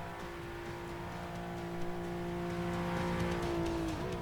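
A stock Nissan GT-R in Forza Motorsport 6 holds a steady high-pitched engine drone in sixth gear at close to 190 mph, loud and sustained with faint wind rush.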